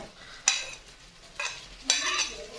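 Onions, tomatoes, green chilies and curry leaves are stirred in a pan for a chicken parts curry, with three distinct scraping stirs over a low sizzle, close and clear, no talk.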